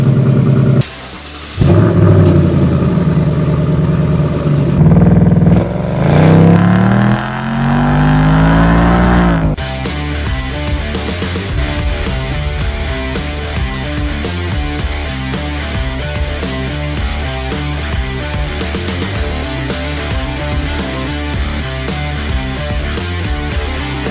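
A Ford Mustang Shelby GT500 with exhaust valves rumbles loud and close, revving up sharply before settling into a steady, throbbing drone while driving.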